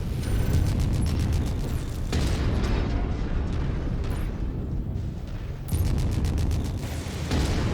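Missile explosions in the MechWarrior 5: Mercenaries video game rumble as a dense, continuous barrage of booms and bursts, loud and close throughout with no talk.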